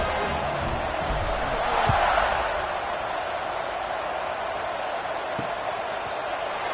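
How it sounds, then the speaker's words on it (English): A stadium crowd roars steadily in a college football video game with USC playing Mississippi State in the SEC, a wide, distant wash of cheering that swells briefly early on and then holds level. "this crowd is feeling themselves after that last drive"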